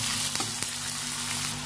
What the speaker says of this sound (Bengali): রসুন পেঁয়াজ লঙ্কাটা ভালো করে ভেজে নেব।